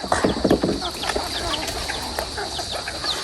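Chickens on a fish farm cluck in a busy cluster near the start as they wait to be fed, then continue sporadically against steady background noise, with a few scattered calls and flutters.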